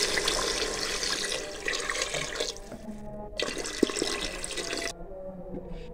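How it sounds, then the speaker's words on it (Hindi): Water runs steadily from a tap into a cooking pot for chicken daal chana, a loud continuous splashing pour that stops abruptly twice, with a brief clink near the end. "साथ इसमें हम पानी शामिल करेंगे।"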